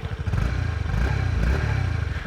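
A Honda CB125R motorcycle's exhaust runs steadily with a low, even mechanical burble, close and moderately loud, with no talking.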